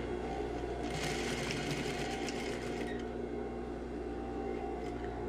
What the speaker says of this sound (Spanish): bajamos la aguja, bajamos pie prensatelas y comenzamos con un remate